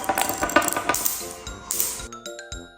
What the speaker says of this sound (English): And when they smash against each other,